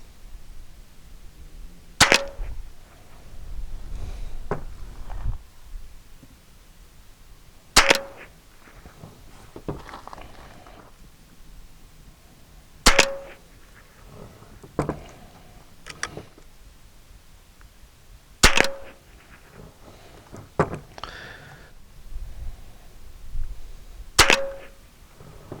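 Five sharp air rifle shots from a Hatsan AT44 Tactical fired at a target on an outdoor range, spaced about five seconds apart, each a crisp crack over quiet background rustle.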